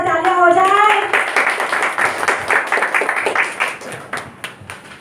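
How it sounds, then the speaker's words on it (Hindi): A crowd at an evening music show claps for the singers and guests, bursting in loudly after a sung note fades, then a scattered, rhythmic patter of hands that thins and softens toward the end. "सबके लिए आज जो एक जोरदार सा तालियां हो जाए।"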